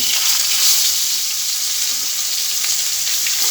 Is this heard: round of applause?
no